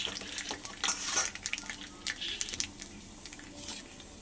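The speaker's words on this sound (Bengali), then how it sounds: "তার জন্য আমি আগে একটু কালো জিরা ফোড়নে দিয়ে নেব" Black cumin seeds crackling and spitting in hot oil in a pan for a spicy eggplant and fish curry, quick bursts of sizzle and pops with light stirring clinks, close and fairly soft.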